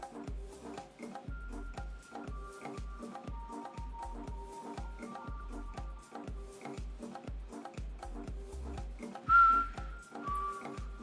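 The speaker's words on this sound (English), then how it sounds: "Probably shouldn't whistle into the mic." A person whistles a tune close into a microphone, in short, sustained notes over a steady thumping beat, with a brighter, louder whistled burst near the end.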